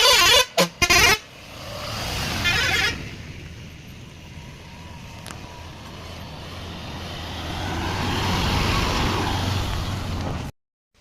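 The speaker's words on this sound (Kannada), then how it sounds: "ಗಾಡಿ ಒಂದು ಬರ್ತಾಯಿದೆ ನೋಡಿ" A motor vehicle approaches on a narrow single-lane forest road, its engine rising to a steady rumble that grows louder toward the end, after a few short horn-like blasts at the start.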